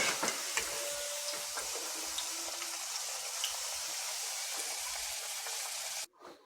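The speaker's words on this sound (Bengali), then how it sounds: "তো এখন আলুটাকেও ভেজে তুলে নিচ্ছি।" Potato pieces frying in a pan while cooking a mixed vegetable navratan curry, giving a steady, close broadband sizzle that runs evenly before cutting out abruptly near the end.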